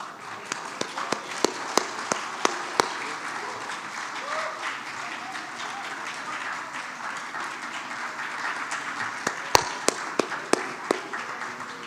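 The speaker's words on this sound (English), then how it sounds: "Let us all give our talented young conservation allies a round of applause, please." Audience applause at a conference closing ceremony: sparse, scattered claps rising over a steady crowd murmur, fairly distant and moderate in level, with louder individual claps standing out here and there.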